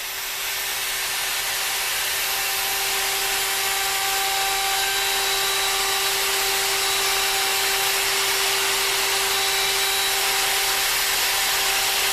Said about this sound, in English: if I climb cut a little into each corner before the bearing rolls along the template edge on its final pass